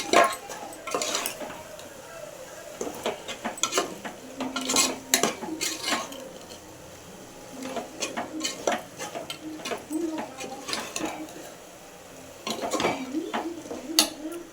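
Tomatoes being stirred and sautéed in a pan for chicken biryani, with a spoon scraping and clanking against the metal in irregular bursts over a faint sizzle, fairly quiet and close.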